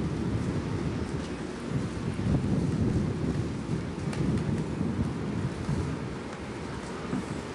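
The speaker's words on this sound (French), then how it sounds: "Ah, le tonnerre?" Thunder rolls as a continuous low, rumbling roar through a storm with rain and wind noise, steady and fairly loud, with no voices.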